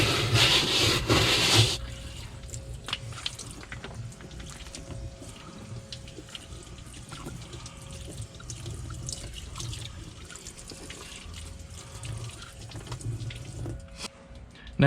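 Running water rinses a rubber floor liner from a Jeep Wrangler JKU, a steady close splashing hiss that starts with a strong burst and then continues as a softer wash with scattered drips.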